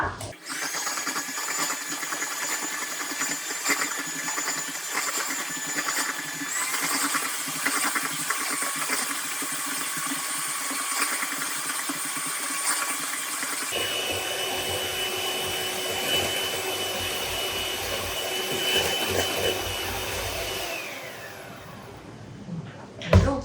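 An electric hand mixer whips cream, yogurt powder and sugar together for a carrot cake frosting, a steady high motor whine running for about twenty seconds, its pitch shifting midway before winding down near the end.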